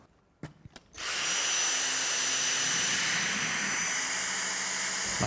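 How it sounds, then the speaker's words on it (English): A Dyson DC59 cordless vacuum cleaner with a V6 motor, two-tier cyclones and carbon fibre brush bristles starts up after a few clicks and runs on a hard floor, giving a loud, steady high-pitched whine close by. "the combination of the V6 motor, the 2-tier cyclones and the carbon fibre bristles means we can achieve really effective fine dust pickup on hard floors"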